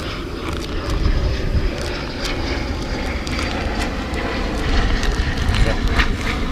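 A plane flies over near a military training area at a fishing spot, its engine roaring in a broad steady drone that swells slightly toward the end, with scattered clicks and handling noises nearby.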